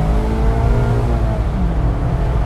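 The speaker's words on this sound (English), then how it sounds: "The downshift rev match. The heel and toe rev match." A car engine revs and drops in pitch during a heel-and-toe downshift under braking, the loud close engine note sliding through gears over a heavy low rumble.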